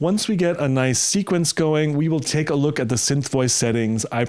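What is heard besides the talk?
No distinct noise like a dog, phone or traffic.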